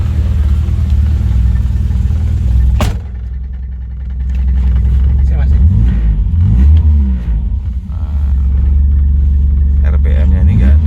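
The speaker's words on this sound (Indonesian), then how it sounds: "Kita coba nyalain mesinnya, langsung tek jereng." A 1981 Toyota Corona engine cranks with a sharp starting burst, then settles into a steady, close, low idle rumble that swells and revs slightly midway.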